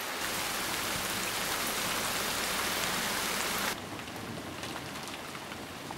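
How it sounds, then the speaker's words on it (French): Heavy rain falls in a steady, dense hiss that fills the whole stretch, loud and unbroken, dropping slightly in level partway through but never easing off. "De la pluie encore et toujours. Il en tombe tellement."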